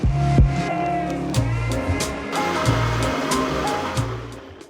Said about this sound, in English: 1 cup of ice and give it a good blend